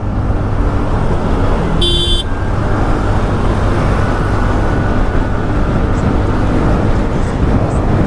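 A TVS Ntorq scooter rides through busy road traffic in Chandigarh, with loud continuous wind rumble and engine noise and a single short car horn toot from nearby traffic.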